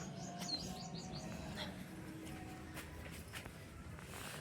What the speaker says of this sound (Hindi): ये चिड़िया है वो देखो भाई, इसके बच्चे हैं।